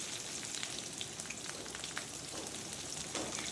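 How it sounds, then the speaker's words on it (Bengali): Chopped onions fry in hot oil with cloves added, a steady, dense sizzle that holds at an even level throughout with faint crackles scattered through it and no talk. "কুচিগুলোকে এবার ভেজে নেব"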